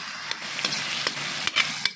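Ingredients sautéing in a pan for pork kaldereta, a short close sizzle broken by several sharp scrapes and clicks of a spatula against the pan, with no voices.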